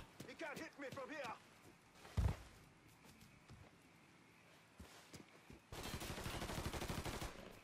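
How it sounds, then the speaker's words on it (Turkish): Shotgun blasts in the video game Mafia III, a heavy low boom standing out among scattered gunfire, with a player talking excitedly over the action and a steady noisy stretch near the end. "Oha pompalı tüfek."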